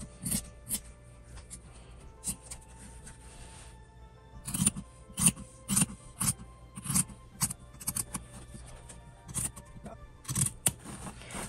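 Scissors trim fabric and interfacing for a sewn wallet with a string of close, crisp snips and blade rasps in irregular bursts, growing busier in the second half over a quiet room background.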